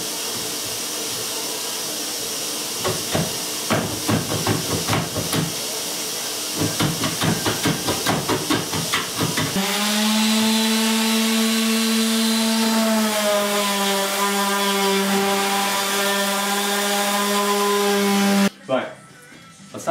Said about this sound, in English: put the planer on it to get it all levelled up.